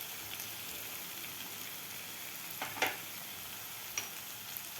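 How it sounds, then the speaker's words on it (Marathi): Dry spices (turmeric, coriander powder, Kashmiri red chili, kala masala) sautéing in a pan for aloo gobi matar masala: a steady, soft sizzle throughout with a couple of faint stirring scrapes, no voices. "आता मसालेसुद्धा आपल्याला खालच्या मसाल्यामध्ये व्यवस्थित परतून घ्यायचे आहेत."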